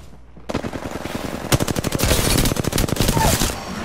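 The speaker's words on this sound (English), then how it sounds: "The enemies are shooting at me!" Rapid automatic gunfire in an Apex Legends firefight, dense bursts of close, sharp shots rattling in quick succession and building into near-continuous fire, with faint voices underneath.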